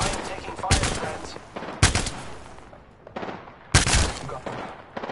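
Video game gunfire cracks out in three loud, sharp volleys of rapid shots, each tailing off into rattling decay, close and dominant, with no voices over it.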